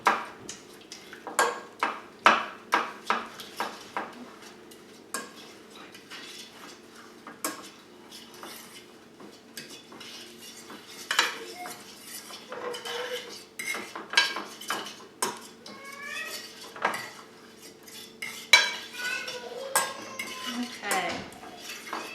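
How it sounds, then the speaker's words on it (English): A utensil stirring raw honey into a marinade in a bowl, with repeated clinks and scrapes against the bowl's sides in an irregular rhythm, close and moderately loud, with no speech. "And we're going to mix that all up."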